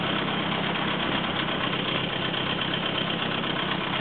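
A 1934 Morris 10 convertible's engine ticks over at a steady idle, close and even throughout with no voices, the exhaust note holding a constant low rumble.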